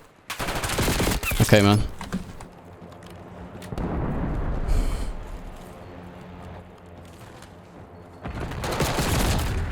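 Gunfire in the video game Black Ops 6: a loud rapid burst of automatic shots up front, then quieter game ambience, and heavy firing again at the end, with someone speaking briefly.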